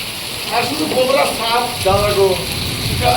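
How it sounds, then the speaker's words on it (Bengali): Heavy rain in a forested part of Odisha falls as a constant broadband hiss beneath someone speaking nearby. "দেখেন কতটা বৃষ্টি পানি শুধু দেখে নেন"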